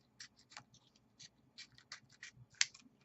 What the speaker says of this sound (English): I took some embroidery scissors because they are extremely sharp. Cut out a blobbish, roundish thing.